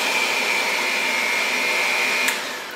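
An electric hand beater whirs steadily at low speed while mixing chocolate cake batter, a continuous close motor hum with a faint high whine that tapers off near the end.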